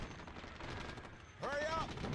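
Gunfire in a strategy video game sounds as a few muffled thuds and pops, faint and distant, ending in a brief tonal whine or whistle.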